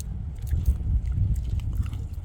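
Close, loud crunching bites into raw purple asparagus, a quick run of crisp snaps and chewing over about two seconds with no talk.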